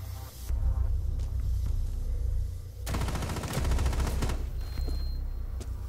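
Shotgun fire in the tactical shooter Rainbow Six Siege: a loud, dense burst of gunfire lasting over a second, set against steady low game rumble with faint sounds before and after.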